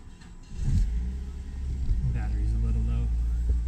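A Mazda 3 engine cranks and catches, then settles into a steady low idle rumble close by, with people talking over it.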